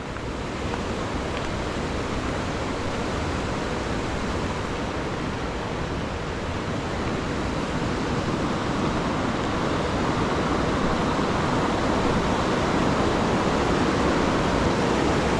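Rushing river water runs steady and loud beside a waterfall after heavy rain, a dense continuous roar with no break and no voices throughout.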